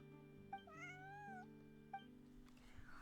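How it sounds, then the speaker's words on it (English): A cartoonish cat meows in a video game, one clear drawn-out meow followed by a brief second call, set over a steady layer of game background music. "Let's go kitty cats."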